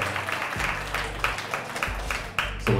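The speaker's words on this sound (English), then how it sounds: "give a round of applause for Sherry Day Scott." Audience applause at a live interview event honoring a rebrand designer, steady broadband clapping throughout, fairly loud and close, with faint crowd murmur and no clear speech over it.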